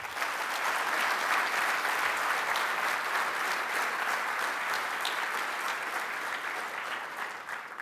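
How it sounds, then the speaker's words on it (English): Sustained audience applause at the 2011 INFORMS Edelman Awards gala honoring the contestants, a dense steady wash of many hands clapping throughout, fairly loud and even with no voices over it. "Let's have a round of applause for all contestants"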